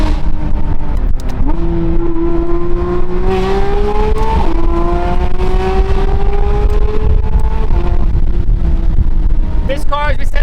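A Porsche 992 GT3 RS with race headers and a full valved titanium Valvetronic Designs exhaust revs loud and close. The engine climbs and holds high, raspy pitches, with a final sharp blip at the end.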